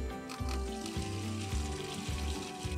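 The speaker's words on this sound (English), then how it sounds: "you want to now fill it with water." Water pours steadily into a garden bucket already packed with nettles, a continuous close rushing and splashing with no talking.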